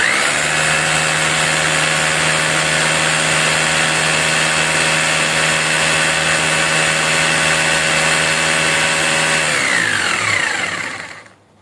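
A Doliz concrete drill whirs steadily at full speed during an RPM test, a loud even mechanical whine with strong tonal hum that holds for about ten seconds, then spins down and stops at the end.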